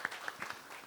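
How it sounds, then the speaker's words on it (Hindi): A brief patter of scattered, fairly faint clapping comes from the crowd at the trailer launch event for Jai Gangaajal with Priyanka Chopra and Prakash Jha. "जोरदार तालियां"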